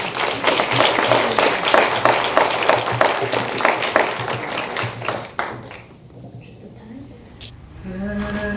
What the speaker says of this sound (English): Can we give all of our panelists a round of applause?